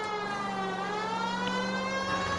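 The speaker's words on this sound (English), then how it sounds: "Let's turn the siren off." A steady electronic police car siren in the video game L.A. Noire wails continuously, loud and close, its tone holding level with faint engine rumble beneath.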